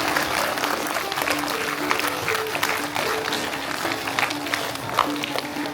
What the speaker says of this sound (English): Please welcome Shubhangi ma'am. Clap loudly all of you.